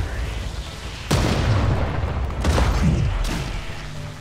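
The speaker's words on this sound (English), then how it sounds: "Don't get hit by the explosions, Jack." Loud booming explosions in the video game Stranded: Alien Dawn erupt in sequence, three heavy bursts with rumbling tails, dense and close amid a noisy background.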